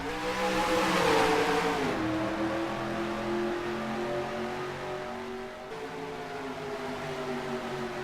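Engines of stock cars drone and rise together at a green flag start on a desert oval in a racing video game, a layered, loud roar with shifting pitch as the pack accelerates, no voices over it.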